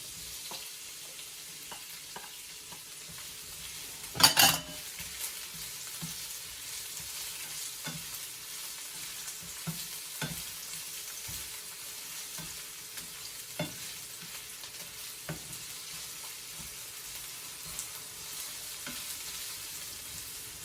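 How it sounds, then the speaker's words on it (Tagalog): Onions sautéing in a pan for an escabeche, a steady low sizzle with occasional spatula scrapes and one louder clatter, close and continuous with no talk. "Medyo palabutin lang natin tong sibuyas niya"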